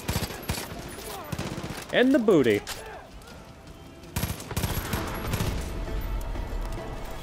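Automatic gunfire in the video game Far Cry 5, with loud bursts and rapid shots scattered through a noisy battle mix, while a player talks over it.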